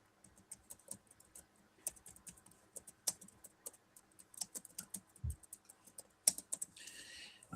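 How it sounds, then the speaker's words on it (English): Computer keyboard typing during an online chat lesson, soft irregular bursts of key clicks with brief pauses, close and quiet with no talking. "So I'm going to write it in the chat for you."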